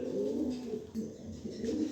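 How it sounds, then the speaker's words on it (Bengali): A light-coloured male racing pigeon coos steadily at close range, its low throaty rolls running almost without a break. "জটিল একটা নর কবুতর"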